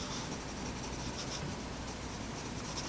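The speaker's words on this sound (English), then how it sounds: "I'm going to add a little bit more shading, a little bit lighter" A graphite pencil shades lightly across paper in a steady, close, continuous scratchy hiss with no pauses.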